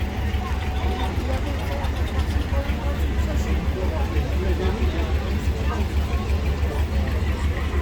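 A 1963 Ursus C328 tractor pulling a 1980 Amazon fertilizer spreader drives past at a farm show, its engine a steady, continuous rumble with a busy crowd murmuring around it.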